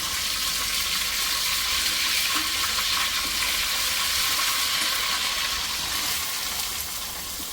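Onions frying in a small kadai give a loud, steady sizzle and crackle that continues unbroken at close range, with no talking.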